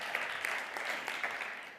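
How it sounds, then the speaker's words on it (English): An audience applauds steadily at a biodiversity and world governance event, a fairly soft, continuous wash of many hands clapping with no voices standing out. "A big round of applause, please"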